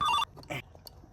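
A mobile phone ringtone rings in a brief loud tonal burst at the start, then cuts off, leaving a few faint clicks and a short muffled sound.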